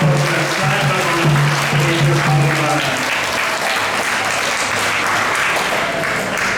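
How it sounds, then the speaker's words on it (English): Audience applause after a question-and-answer session with a Hare Krishna swami at an ISKCON gathering: steady, dense clapping fills the room throughout, with a voice speaking over it near the start. "So give a round of applause for his"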